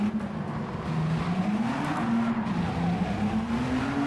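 Engine-swapped VW Polo GTI racing around a circuit in Gran Turismo 7, its engine droning and shifting steadily in pitch as the tyres spin for grip, loud and continuous with no talk.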